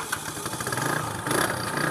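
A new motorcycle engine idles nearby with a steady low rumble, rising slightly toward the end, at an outdoor handover gathering.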